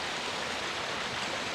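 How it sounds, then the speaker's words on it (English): Steady rushing water from a Resident Evil game on the original PlayStation, flowing down a surface in an even, continuous broadband wash with no talk. "The water is running down the opposite side."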